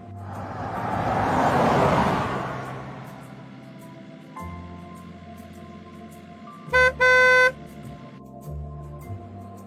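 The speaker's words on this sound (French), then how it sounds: "Qui est en train de me klaxonner là-bas?" A car horn gives two sharp, loud honks in quick succession after a passing vehicle whoosh, with a faint engine rumble underneath in an animated street scene.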